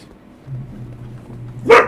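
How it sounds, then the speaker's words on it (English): A dog barks once, sharp and fairly close, after a stretch of low murmuring background on a quiet winter day. "Oh, and there goes the dog barking."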